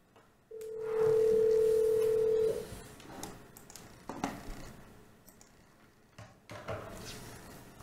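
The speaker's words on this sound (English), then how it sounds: "So let's call and find out." A phone call is placed: a steady, clear single dial tone holds for about two seconds, then gives way to quiet room noise with faint clicks and handling sounds.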